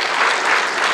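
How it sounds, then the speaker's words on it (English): An audience claps steadily after a business presentation, a dense, loud burst of applause that fills the whole moment. "Give a round of applause."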